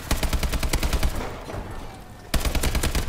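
Rapid AK bursts fire in the Call of Duty: Advanced Warfare video game, loud and close, with a short pause before another quick volley.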